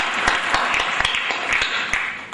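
Audience applause at an INSZoom business conference: dense, steady clapping from a roomful of people that fills the whole stretch at an even level, with no talking.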